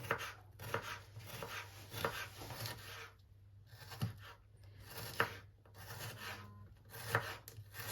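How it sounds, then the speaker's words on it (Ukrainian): A knife slices onion thinly on a cutting board, giving soft, close, regular chopping strokes in short runs with brief pauses between them. "Цибульку також тоненько-тоненько нарізаємо."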